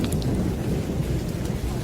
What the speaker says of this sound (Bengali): এক মুহূর্তেই ঝমঝম করে শুরু হলো মুষলধারে বৃষ্টি, সঙ্গে বজ্রপাতের ঝলকানি।